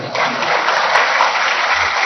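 An audience at a Supreme Court event applauds: a dense, continuous wash of clapping that holds steady for about two seconds, loud and filling the hall.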